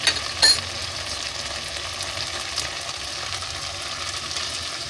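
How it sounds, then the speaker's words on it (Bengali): A spice mixture of chilli powder, salt and sugar fries in a pan while being stirred, a steady close sizzle with a couple of sharp scrapes and clinks at the start, no voices. "দেখুন মশলাটা ভালো করে কষিয়ে নেব।"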